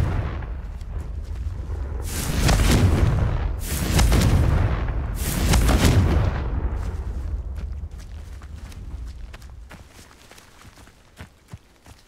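Confringo fire spells blast in the video game Hogwarts Legacy, three loud, booming explosions in quick succession with a rumbling tail, followed by fading debris and faint footsteps.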